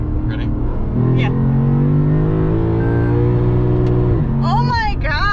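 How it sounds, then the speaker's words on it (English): A 2021 Lexus RC F on the road near Fuji, its engine held loud and high against the rev limiter in a steady, buzzing drone that drops sharply near the end, followed by excited voices. "One of the really cool things about Lexuses are their rev limiters. They sound really cool when you bounce off them."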